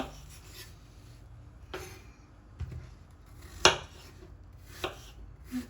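A knife slices through apples with soft crunching cuts and a few sharper taps on a board, close and fairly quiet, no talking.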